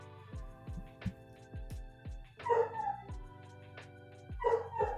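A dog howls and barks in a long rising-and-falling series, close by and fairly clear, with sharp thumps and clatter around it and no voices.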